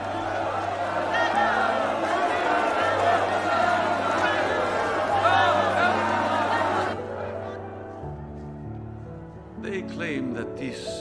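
A crowd murmurs and bustles in a film scene, a steady babble of many voices with a low drone beneath, fading to quieter scattered sounds near the end.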